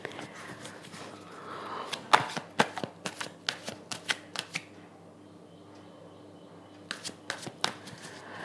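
Tarot cards being handled and laid out in piles for a reading, with a burst of sharp crisp snaps and flicks, then a pause, then a shorter cluster of card slaps, close and fairly quiet.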